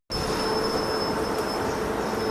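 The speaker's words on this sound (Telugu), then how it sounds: "2 మినిట్స్ డిలేతో అయితే మనం దుంగర్పూర్ రైల్వే స్టేషన్ నుండి అయితే బయలుదేరిపోయాం" A train pulling out of Dungarpur railway station rumbles on steadily, with a thin sustained high squeal over the running noise, close and continuous after a brief silent start.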